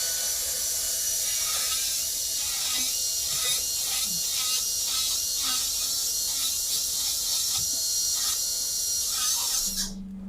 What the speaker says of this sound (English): it's just a matter of getting your grind box and grinding it out.